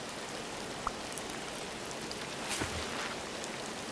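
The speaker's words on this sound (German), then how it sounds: "Da es so stark regnet, wird er schneller fertig sein." Heavy rain in the video game Disney Dreamlight Valley, a steady dense hiss of falling water with faint pattering drops throughout and no speech.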